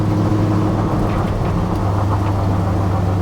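Restored Dodge W200 truck driving, its engine a steady, loud low rumble with a continuous drone throughout, no voices present.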